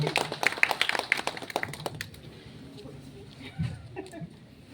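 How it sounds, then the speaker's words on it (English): Short burst of clapping from an audience at a lucky draw prize event at a Yamaha showroom in Shillong, lively for about two seconds and then fading, with voices nearby. "Please give her a round of applause, everyone."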